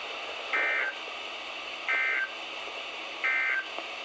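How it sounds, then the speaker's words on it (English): NOAA Weather Radio warning alarm test: three identical shrill electronic tone bursts, each about a third of a second, spaced evenly over a low broadcast hiss. "This concludes the test of the NOAA Weather Radio Warning Alarm and Emergency Alert System."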